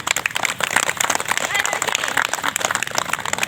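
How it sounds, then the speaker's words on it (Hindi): Audience clapping for an invited guest at a community gathering, dense and steady throughout with no clear pauses. "तो हम चाहेंगे और एक बार बबलू जी के लिए तालियां बजा दें"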